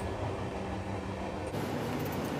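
An AC Economy Class special train pulls away from Kacheguda railway station, a steady rumbling, rolling drone heard from on board that holds level throughout, with no voices.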